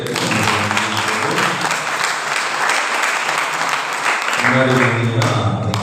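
Sustained, loud applause from a crowd at a church jubilee feast for the director priest, steady throughout with a brief swell near the end, while a voice speaks over the clapping.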